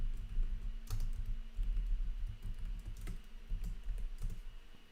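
Keys on a computer keyboard typing out a chat message, a quiet run of soft irregular clicks and taps over faint room hum, no voices.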